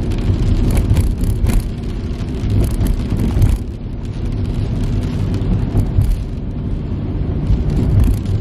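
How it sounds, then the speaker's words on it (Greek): A truck rumbles past outside a house, a loud, continuous low engine roar and road noise that swells and stays heavy throughout, with wind-like broadband hiss on top. "Έχει πέρασει ένα φορτηγό τώρα από το σπίτι μας εδώ απ' έξω"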